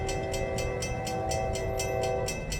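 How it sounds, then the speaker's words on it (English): FEC train 107 passing near a grade crossing by St. Augustine Beach, a steady loud rumble of rolling cars with sustained horn tones held throughout, close and continuous with no talk. "He's going crazy with the horn"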